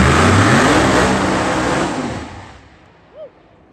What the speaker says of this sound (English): here comes the Mustang. Outlaw 632 car